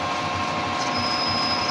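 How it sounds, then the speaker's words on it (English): A steady mechanical whine of a centre drill starting a hole in a custom motorcycle fender strut, close and continuous, with a high tone rising partway through. "very carefully start it with a centre drill"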